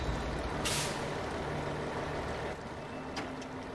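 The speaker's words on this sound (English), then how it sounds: "This truck really has no issues" A truck in SnowRunner, Michigan's Drummond Island map, churning through soupy mud: a steady low engine drone with hissing air-brake-like bursts, moderately loud and continuous.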